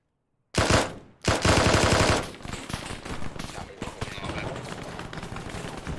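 Rapid automatic gunfire bursts in ARMA 3, loud and close, opening with a heavy sustained volley and a brief pause, then continuing as a steadier stream of shots with faint voices underneath.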